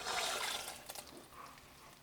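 Liquid poured into a mixing bowl over yeast for cinnamon roll dough: a brief, close splashing gush that starts strong and trails off within two seconds.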